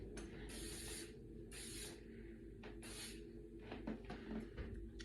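Aerosol hairspray sprayed onto dry hair while curling with a flat iron: three distinct hissing bursts, each about half a second to a second long, close and fairly loud, over a low room hum.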